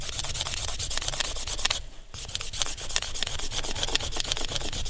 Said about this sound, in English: And now we start scraping.